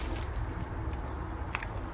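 Crunchy baklava being bitten and chewed close to the mic, a dense crackling crunch with a sharper bite sound near the end, no talking.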